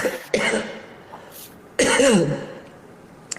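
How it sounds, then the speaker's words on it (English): Two harsh coughs ring out close to the microphone, separated by a short pause, each trailing off into a raspy breath. "I have to cough again."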